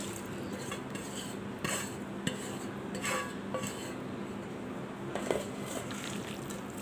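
Small fish are hand-mixed with mashed potato, onion and chili in a bowl. The squishing and light clinks are faint and close, with scattered soft knocks throughout.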